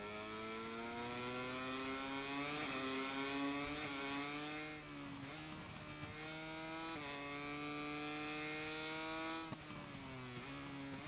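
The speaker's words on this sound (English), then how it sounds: "Someone's just doing burnouts" A racing motorcycle in MotoGP 22 does burnouts, its engine holding a high, buzzing whine that repeatedly revs up, drops and climbs again, fairly faint and steady throughout with no talking.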